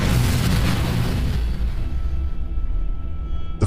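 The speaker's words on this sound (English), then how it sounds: "a sudden explosion erupted from the bowels of the vessel." A sudden explosion deep inside a ship's hull, a loud low rumbling boom that fills the whole clip and slowly fades, with a sharp burst right at the end.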